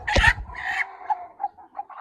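A hen on a farm clucks nearby as eggs are checked beneath her: one loud squawk followed by a few softer, spaced clucks.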